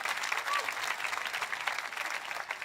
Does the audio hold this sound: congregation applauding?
yes